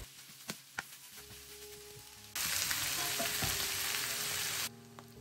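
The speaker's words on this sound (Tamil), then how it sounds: "அதையும் சேர்த்து நல்லா அதை வெங்காயத்தோடு நல்லா மிக்ஸ் பண்ணிக்கொள்ளணும்." Boiled beef stirred with onions in a frying pan: a few scattered clinks and taps, then a loud, close burst of sizzling that lasts about two seconds and then cuts back to quiet kitchen clatter.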